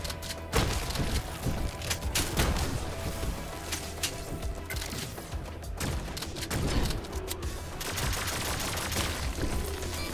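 Gunfire in the video game Turbo Overkill, with scattered bursts of shots and booming impacts over busy game noise, fairly faint and uneven.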